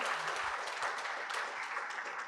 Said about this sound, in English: please join me to give a big applause to the 2 excellent keynote speakers today